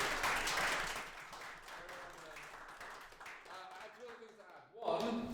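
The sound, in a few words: audience round of applause at tech talk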